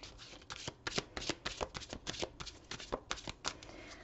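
Oracle cards are shuffled by hand at close range, a quick run of crisp riffling bursts and soft flutters in an irregular rhythm, quiet and alone without any voice.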